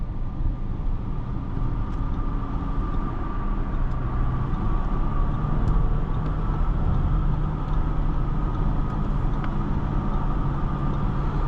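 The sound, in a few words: 2025 Audi Q7 55 Prestige driving, interior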